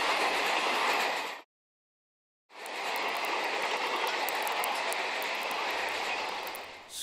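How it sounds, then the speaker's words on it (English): A locomotive rumbles by with steady broadband roar, broken by about a second of total silence, then resumes with faint clicking on top; no talking. "Scary locomotive."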